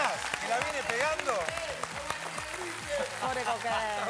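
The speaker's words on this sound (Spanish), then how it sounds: "Un aplauso para Coco, muy se lo merece." Studio audience applause on a Spanish-language television show, clapping running under lively music with sliding tones and a voice woven through, continuous and fairly loud across the stretch.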